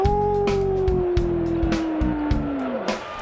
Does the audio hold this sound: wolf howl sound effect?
yes